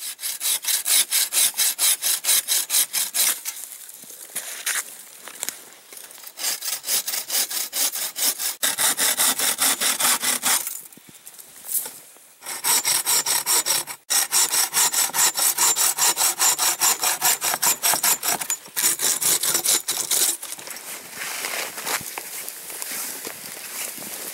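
Firewood being cut with a hand saw, a loud close rhythm of fast rasping back-and-forth strokes running in long bursts with a few short pauses between cuts.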